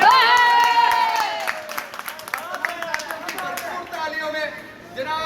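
A crowd at a welcome event for an organisation's central president applauds and chatters, clapping mixed with voices and cheers under a loud voice speaking over it.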